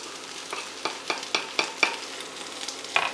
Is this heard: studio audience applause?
no